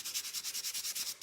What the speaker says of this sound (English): you would sand your 3D stencil